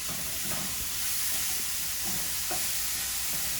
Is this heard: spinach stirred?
yes